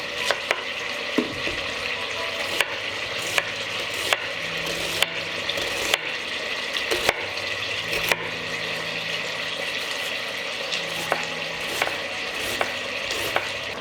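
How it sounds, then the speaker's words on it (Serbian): Schnitzels frying in a pan, a steady close sizzle punctuated by regular sharp clicks and taps of a utensil, with a low hum underneath and no talk. "Šnicle ću pržiti po nekoliko minuta sa obe strane."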